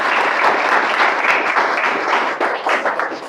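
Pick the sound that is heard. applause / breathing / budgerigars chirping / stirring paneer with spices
applause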